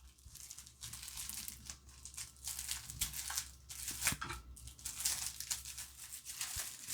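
Crinkling and tearing of a plastic packaging bag and paper wrap as a deep brown leather minimalist wallet is unwrapped, steady close rustles and crunches continuing for about seven seconds with a soft low hum beneath.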